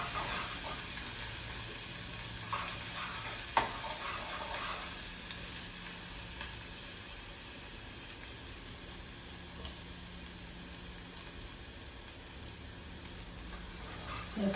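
Garlic sautéing in hot oil for a sweet-and-sour fresh Bombay duck curry, a faint, steady sizzle with a few soft stirring clinks, no voices.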